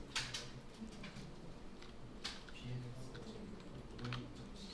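Computer keyboard keys tapped in a short shortcut sequence, Ctrl+T, Ctrl+V and Enter, as faint, crisp clicks scattered over a quiet background while a voice talks softly.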